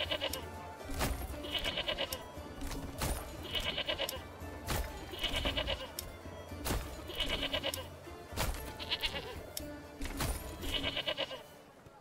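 Goats in the medieval city-building game Manor Lords bleating in a regular, repeating pattern, with sharp thuds and clicks recurring about once a second over a quiet ambient backdrop.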